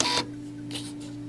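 A no-name Chinese 58mm thermal receipt printer prints and feeds paper at a slow density setting, giving short close whirring bursts over a steady electrical hum.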